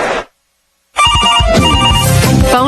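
A loud telephone ringtone plays in a radio advert during a high school basketball broadcast. A short burst comes first, then a pause of silence, then a sustained electronic ringing pattern.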